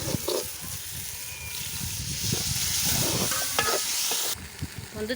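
Steady sizzling of chili powder frying in hot oil for a fish curry, with a spatula scraping and stirring the pan at close range.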